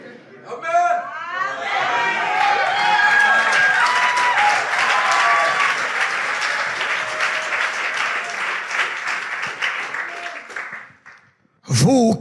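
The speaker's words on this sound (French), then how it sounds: "Voilà que les acclamations commencent à diminuer" A church congregation cheers and applauds loudly and steadily for about ten seconds, with some voices and chatter mixed in, fading briefly before a final burst of clapping.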